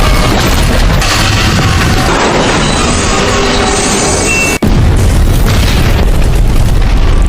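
A fuel tanker truck explodes in a film scene, a loud, dense blast and roar that fills the whole stretch, broken by one sharp instant cut before the rumbling continues.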